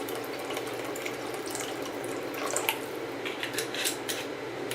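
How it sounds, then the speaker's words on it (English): Tarragon vinegar poured into a pot of Tuscan onion soup, a steady close liquid splash with a few small clinks, with no talking. "I'm going to put in 2 tablespoons of tarragon vinegar"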